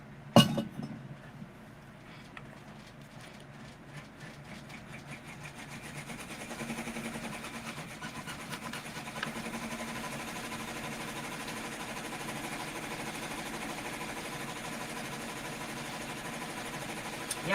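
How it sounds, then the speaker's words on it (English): An embroidery machine stitching runs as a steady mechanical whir and rapid clatter, starting quietly and growing louder after a few seconds before holding an even, continuous drone with no talking. "Or are you playing with your embroidery machine?"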